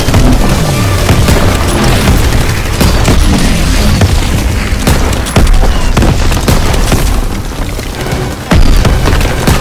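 Grenade blast in Call of Duty WWII amid a dense, loud battlefield of booming explosions and gunfire that continues throughout, with no quieter stretches.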